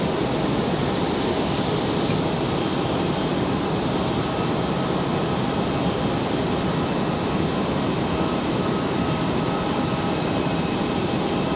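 A JetBlue airliner in retro livery at Raleigh Durham airport produces a loud, sustained jet engine roar with a faint high whine running through it, staying steady for the whole stretch, with no voices.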